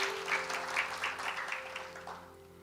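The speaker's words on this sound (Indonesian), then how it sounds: "Boleh tepuk tangan kita buat Tuhan dulu, saudara." A church congregation at a Sunday service gives a short round of applause, the clapping swelling briefly then fading out within a few seconds, moderately quiet and distant.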